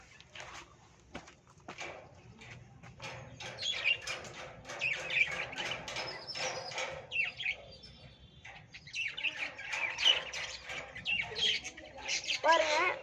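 Pet sparrows in a large home cage chirp and squawk in busy, overlapping bursts, with occasional wing flutters, close by and moderately loud, along with a little background talk.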